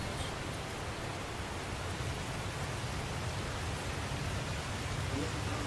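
Steady, dense video game rain hisses continuously without pause, a broad wash of noise with a low rumbling undertone throughout, from Tales of Zestiria.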